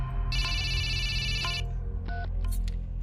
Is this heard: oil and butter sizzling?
no